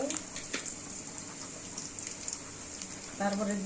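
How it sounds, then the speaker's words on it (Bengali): Onions frying and being stirred in a pan for hilsa fish curry with green banana, a steady close sizzle with scattered pops and scraping, building to a louder hiss near the end. "দেখেন দিয়ে দিলাম পেঁয়াজ দিয়ে একটু নাড়াচাড়া করলাম"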